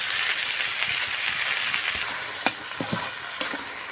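Spices and mutton paya sizzling and frying in a pan, a steady hiss with a few sharp stirring clinks near the end.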